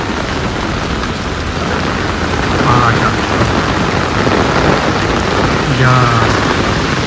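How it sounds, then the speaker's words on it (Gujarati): Heavy storm rain pours steadily in Patan, a dense continuous hiss with low rumbling gusts swelling twice, near and loud throughout with no voices. "અત્યારે વરસાદ ચાલુ છે"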